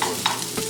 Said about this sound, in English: Oh yeah, that's a sizzle.